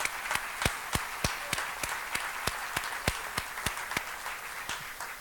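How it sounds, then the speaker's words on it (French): Scattered audience clapping at a political conference in honour of a member of parliament, a thin crowd wash punctuated by several sharp, distinct claps from nearby hands, steady for about five seconds. "Puis oui, on doit l'applaudir."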